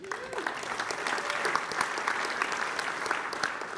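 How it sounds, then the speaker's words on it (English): Steady applause from a conference audience at a web performance tech event greets a speaker taking the stage, a broad wash of many hands clapping at moderate level with no pause. "A big round of applause for Steve here today."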